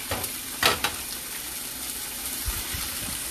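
Salisbury steaks sizzle in a pan, with a soft steady fry beneath a few brief louder clatters and scrapes, and no one speaking.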